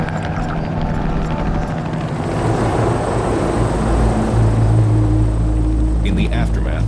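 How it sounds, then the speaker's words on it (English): Medevac helicopter arriving on a battlefield to lift out a badly wounded Marine, rotor and engine rumble building steadily and growing louder, heard beneath a speaking voice. "medevac is called in to remove the seriously wounded Marine from the battlefield"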